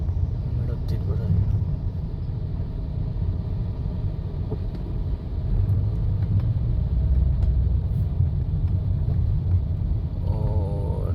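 Road traffic on a street in Vientiane, a continuous low rumble of passing cars and engines, loud and close, with a voice talking over it.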